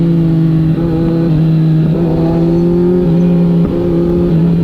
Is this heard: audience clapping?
no